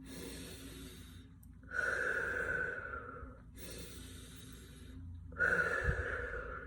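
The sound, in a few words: slow calming breathing demonstrated by a parent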